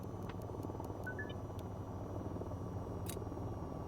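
A helicopter in the VTOL VR flight game winding down during shutdown, a steady low rotor and engine drone running at even loudness throughout with a few faint clicks above it.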